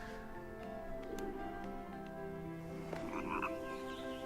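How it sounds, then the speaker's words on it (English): A frog croaking in the video game Child of Light, with a few short, near croaks over looping background music and ambience, no talking. "There's a frog."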